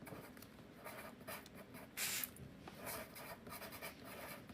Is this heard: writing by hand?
yes